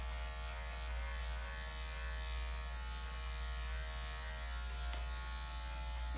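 Electric dog clippers fitted with a 7 blade hum steadily at close range, running without a break while clipping a poodle's coat down the body; no voices.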